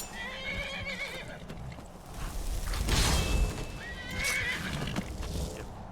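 A horse in the video game Skyrim neighs and whinnies loudly, with a long shrill call in the middle and a second whinny near the end, over soft hoof clops and game ambience.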